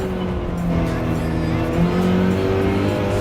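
A Toyota Supra race car accelerates hard with a sustained rising engine drone, loud and steady, mixed with other cars on the track.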